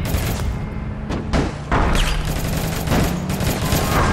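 Rapid bursts of Tommy gun fire in the APB Reloaded shooting game, several close, loud volleys with short gaps between them, mixed with booming impacts.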